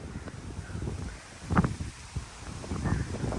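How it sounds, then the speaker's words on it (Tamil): Wind gusts through a garden at a bungalow in Chennai, a soft steady rush with faint rustling and scattered small knocks and thumps, fairly quiet, no talking. "காற்று பாருங்கள், நல்லா காற்றடிக்கக்கூடிய ஒரு ஏரியா"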